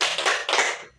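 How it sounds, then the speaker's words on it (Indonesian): Group rhythmic clapping chant at a scout training session, sharp patterned bursts of hands with brief gaps, close and loud with no talk over it. "Oke, kita tepuk semangat."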